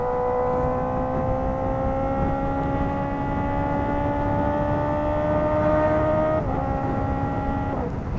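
A Kawasaki ZX-4RR sport motorcycle with an ECU flash revs its exhaust with a sustained high-pitched whine that climbs slowly, then drops sharply near the end and rises again, loud and close.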